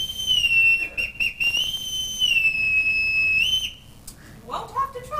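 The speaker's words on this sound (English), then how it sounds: "Everyone in this household answers to a whistle." A signal whistle blown in a household to call the children, sounding as long sustained shrill blasts with steady and wavering pitch, broken by short gaps, loud and close, with a second whistle call near the end.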